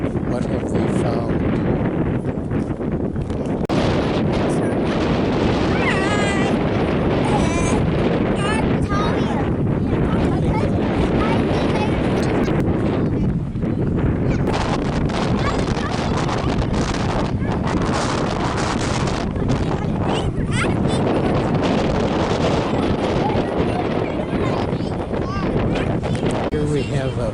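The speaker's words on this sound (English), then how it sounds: "Seems to have gotten colder today, very windy." Strong wind on a cold day at the South Shore of Effigy Mounds buffets the microphone in a loud, steady roar with gusting surges throughout, over occasional voices.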